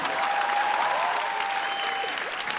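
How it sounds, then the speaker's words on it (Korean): A studio audience at a Korean TV gag concert show claps in a steady, even wash of applause, with a faint voice or tone threading through the clapping. "지금 이 박수도 나한테 치는 게 아니라 음향 감독님한테 치는 거 같지?"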